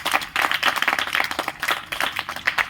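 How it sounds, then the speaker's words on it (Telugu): Crowd of people clapping together at an Independence Day gathering, a dense irregular patter of claps with no talk. "అందరు క్లాప్స్ కొట్టండి."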